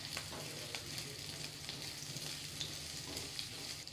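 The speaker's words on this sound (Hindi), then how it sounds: "प्याज को हमने 1 मिनट के लिए सॉटे कर लिया है।" A chopped onion sautés in about two tablespoons of hot oil in a pan for a restaurant-style mixed vegetable dish, giving a steady, even sizzle throughout with no talking.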